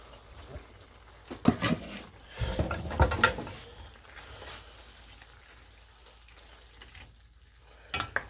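A spoon scrapes and stirs through a pan of vegetable shakshuka seasoned with oregano, giving a few soft, sloppy bursts of stirring between quiet gaps, with a faint sizzle underneath.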